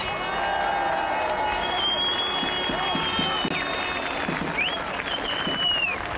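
Crowd applause at a street demonstration in France for Florian Philippot, continuous clapping mixed with cheers, whistles and chanting voices, with people shouting over the noise.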